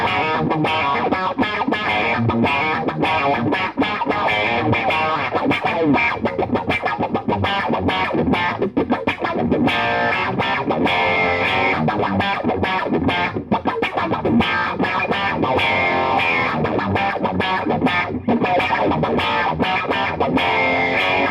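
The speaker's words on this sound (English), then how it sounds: "So I'm going to be using the MI Blues Pro, and that's going to be after both the envelope filter and the compressor." Electric guitar played through an envelope filter, a compressor and an MI Blues Pro overdrive, giving a dense, driven, wah-like tone with busy rhythmic picking that stays loud and steady throughout.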